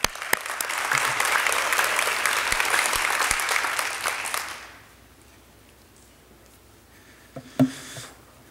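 A crowd at a winter sports awards ceremony applauds a high school assistant coach, dense sustained clapping for about four seconds that fades out, leaving a quiet room and a brief thump near the end.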